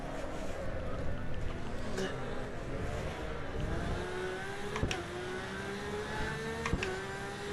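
Porsche race car in the sim game Assetto Corsa EVO at Monza, engine whine and tyre noise with pitch sliding downward under braking, a few sharp clicks of gear changes, person talking over it.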